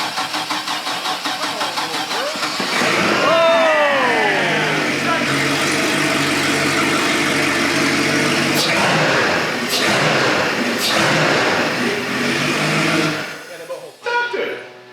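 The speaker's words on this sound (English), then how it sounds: "It's always good to just go right to the red line revving when it's sat for a year" A fuel-injected boat engine that has sat for a year cranks and catches, then roars loudly and revs hard to redline before settling and cutting off, with voices briefly heard around it.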